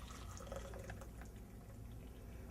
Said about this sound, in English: 1 cup of boiling hot water.